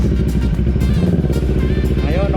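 A CFMoto 650GT motorcycle rides along at night, its engine a steady close drone with low harmonic pulsing throughout, no talk over it.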